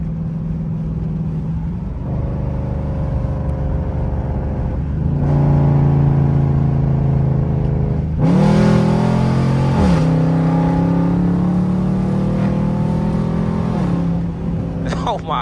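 A catless Dodge Durango R/T engine revs hard in second gear, loud and close, with repeated rising pitch sweeps that climb, drop back and surge again into an aggressive roar.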